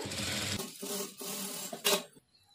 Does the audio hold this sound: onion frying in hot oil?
no